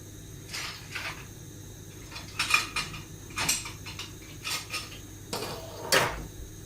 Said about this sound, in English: my whisk just dropped out of my bowl